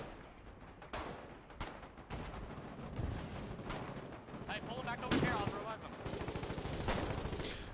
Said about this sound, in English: The tanks are shooting.